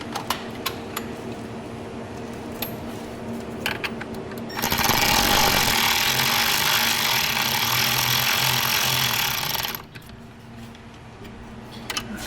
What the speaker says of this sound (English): let's see how I can tighten it down